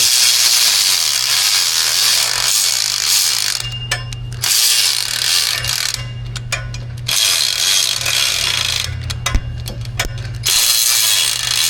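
Ratchet wrench turning lug bolts on a Lexus LX700h hybrid SUV, a rapid continuous clicking heard up close in several bursts with short pauses between them, alone without talk.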